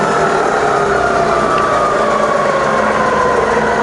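A machine engine held in low range runs steadily and loudly, its pitch drifting as the revs shift between slow and faster speeds, a continuous mechanical drone with no voices.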